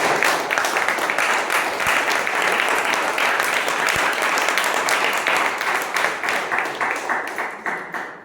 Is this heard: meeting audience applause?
yes